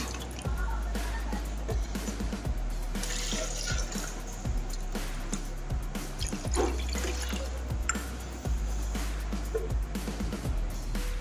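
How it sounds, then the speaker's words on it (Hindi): Water splashes and trickles into a container holding ice cubes for pani puri water, with scattered drips and clinks, a steady pour close by with faint background noise. "अब ये मैं इसमें जो आइस क्यूब्स मैंने डाली है इस डब्बे में, इसमें ऐड कर दूँगी ये पानी"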